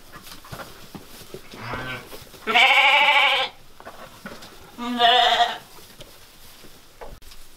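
Sheep at a sheepfold give two loud, close bleats a couple of seconds apart, each lasting about a second, over a murmur of background noise.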